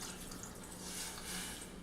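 Water poured into a pan of blackberries sweetened with Splenda while making a keto glaze, a steady faint splashing trickle that lasts throughout without talk.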